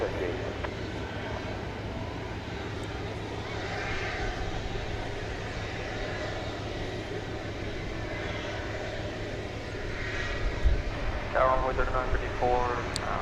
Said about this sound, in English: This is a MAX 8 United Airlines off to the mile-high city of Denver,